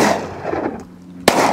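A single sharp shotgun blast at a thrown clay target, loud and close, cracking out near the end after a stretch of outdoor background noise.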